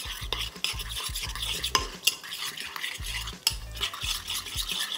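A spoon stirs roasted jeera and spices into sloppy joe sauce in a pan, scraping with steady repeated strokes and light clinks against the pot under a soft sizzle.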